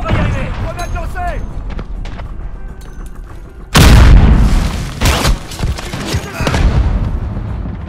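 Grenade explosions and gunfire from the Modern Warfare beta in a cave map, with a loud blast midway followed by several sharp bursts of shots, over game voices and background battle noise.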